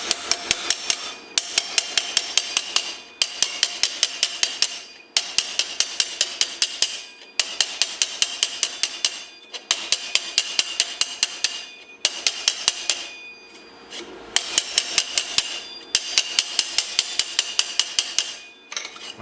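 A hammer beats out a TIG-welded metal collar in loud, close bursts of rapid blows, each flurry lasting about a second and separated by short pauses, repeating steadily throughout with no talking.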